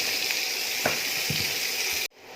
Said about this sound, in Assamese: এতিয়া ইয়াত পিঁয়াজখিনি দি দিলোঁ।